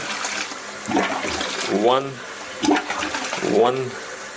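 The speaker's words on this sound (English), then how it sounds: "So it's like small flushes for the pee. It's a more efficient model. Let's see, I do small flushes." A small, water-efficient toilet gives short volume-regulated flushes, a couple of brief bursts of rushing water close by with someone talking over them.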